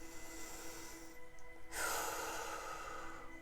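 A slow exhale through the mouth during a bedtime Pilates shoulder-lowering movement, a soft airy breath that swells midway and holds steady over quiet room tone, close and alone.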